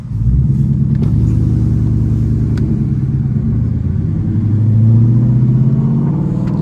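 A Ford Mustang Bullitt's engine drones loud and close, a steady low rumble that rises in pitch and intensity as the car accelerates, with no talk over it.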